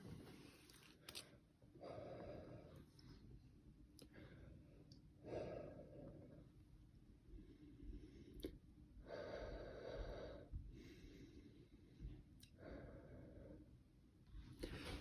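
Slow, close breathing onto an air quality sensor, soft breathy exhalations repeating in a steady rhythm of about one every two seconds, faint and intimate with no talking.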